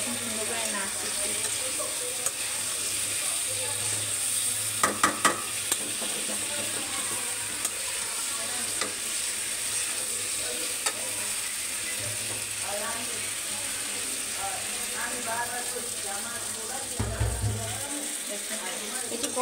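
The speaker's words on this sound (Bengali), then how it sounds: "এখন সুন্দর করে নাড়তেছি" A frying pan of pabda fish curry with potatoes is stirred, with a low sizzle and rattling, ratchet-like scrapes of the utensil against the pan, continuous and close, with a few louder knocks.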